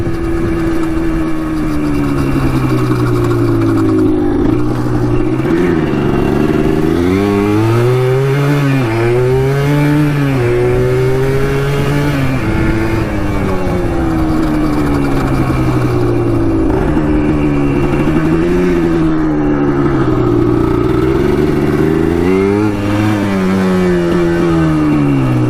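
Yamaha Blaster ATV two-stroke engine held at full throttle on a riding test after a bogging, no-power fix, a loud, steady, close buzzing drone with rising and falling pitch that runs the whole time.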